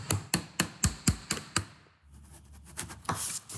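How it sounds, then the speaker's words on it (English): Hammer striking a fuel pressure regulator ring to knock it off a Jeep, with seven sharp metallic blows in a steady rhythm, close and clear, followed by quieter shuffling and scraping. "Now I don't have the special tool for this, so hammer it is."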